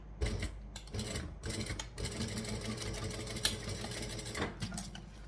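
A sewing machine stitches in quick, steady runs of rattling clatter with short pauses, close and fairly quiet.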